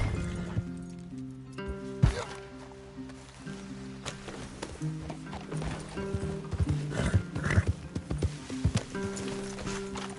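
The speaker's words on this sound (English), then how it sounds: "Leave the horses in the trees there." Horses in Red Dead Redemption 2 clop and shuffle close by on a wooded trail, with several loud neighs and whinnies rising over a busy layer of hoofbeats, rustling and faint game music.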